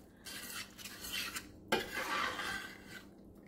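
Grated Parmesan is stirred into homemade spaghetti sauce in a pot, with quiet scraping and swishing from the spoon, a brief sharp knock near the middle, and soft rubbing strokes afterward.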